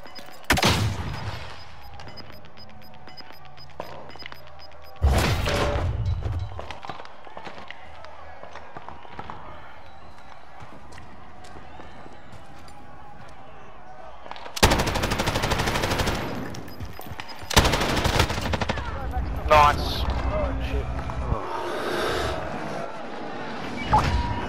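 Light machine gun fire in a first-person shooter, sustained loud automatic bursts in several long stretches with shorter gaps, close and dense, mixed with game effects and occasional player talk.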